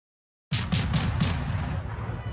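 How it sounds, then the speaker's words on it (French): Short bursts of rapid naval gunfire from warship guns in World of Warships, four quick sharp blasts in a row followed by a long rumbling tail, loud and close. "J'aime bien les petits tirs en rafale comme ça."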